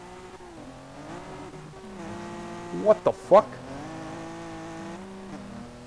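Race car engine revving and accelerating in Street Legal Racing Redline, a steady harmonic drone rising in pitch with a few sharp louder bursts midway, under a man's exclaimed speech.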